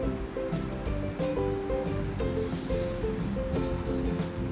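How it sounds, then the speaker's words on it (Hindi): Strong wind sweeps across a home rooftop in a steady, loud, gusting roar that buffets close to the microphone throughout, with no talking. "बहुत तेज़ हवा चल रही है।"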